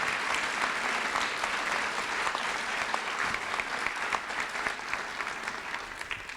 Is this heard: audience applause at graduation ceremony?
yes